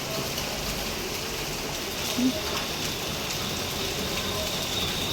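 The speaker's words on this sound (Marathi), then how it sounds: "आमच्या इथं चाललाय पाऊस आज दिवसभर सगळा पाऊसच आहे" Steady rain falls continuously, a dense even hiss of drops on surfaces, with no talking.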